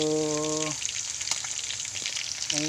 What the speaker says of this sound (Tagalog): magprito tayo ng galunggong guys, at saka isang pirasong bulyasan guys